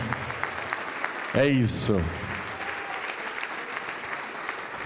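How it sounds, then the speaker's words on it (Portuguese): Congregation applauding in a church service, a steady wash of clapping under a loud voice that speaks and sings over it, with a brief louder burst midway. "vamos aplaudir ao Senhor"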